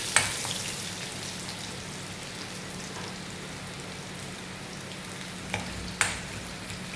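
Shallots and dried red chili frying in a pan, a soft steady sizzle with a few sharp clinks of a utensil against the pan near the end.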